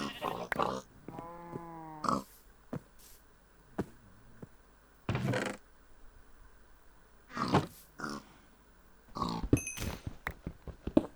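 A pig in the Minecraft OneBlock Skyblock survival game gives a short burst of grunting oinks, interleaved with bursts of a person talking.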